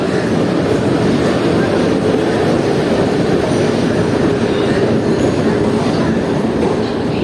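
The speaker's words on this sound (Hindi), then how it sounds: "तो ये आ रही है दोस्तों अपनी एल्को लोको सेट के साथ, लोकोमोटिव के साथ WDM 3D।" Express train pulled by a WDM 3D diesel locomotive, Danapur–Jogbani Express, rolling into a station: a loud, continuous rumble and clatter of wheels on track, close and unbroken for the whole stretch.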